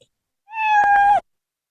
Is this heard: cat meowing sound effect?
yes